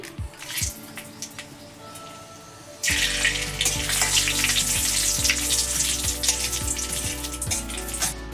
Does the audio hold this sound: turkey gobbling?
no